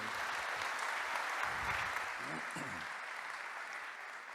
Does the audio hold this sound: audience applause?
yes